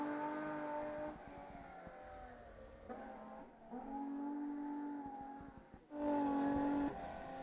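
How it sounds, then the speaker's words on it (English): BMW rally car on a gravel stage at Rally Otago in New Zealand, its engine loud and near, revving hard through repeated gear changes, dipping briefly between shifts before surging louder toward the end. "Claire Mutini in the driver's seat in the beautiful sounding BMW"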